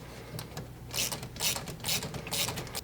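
Close, loud ratchet clicking in several quick bursts as a socket wrench tightens the cold air intake coupler on a Chevrolet Silverado LMM Duramax diesel, separated by short pauses.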